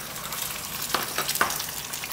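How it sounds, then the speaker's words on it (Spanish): Eggs sizzle and crackle steadily in a hot frying pan, a close, continuous hiss with a few brighter pops and no talking. "ahí estamos friendo"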